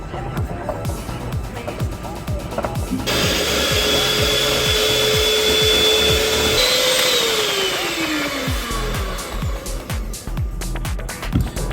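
An electric mixer whirs steadily through caramel apple cake batter for several seconds, loud and close, starting and stopping with a shift in pitch, as a voice talks over it.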